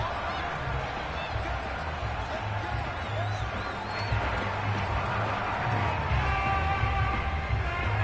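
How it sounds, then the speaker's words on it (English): Stadium crowd in a Madden football game shouting and whooping while watching a replay, a steady dense roar with scattered cries and a low rumble beneath. "Plenty of shouts from this crowd as they watch the replay"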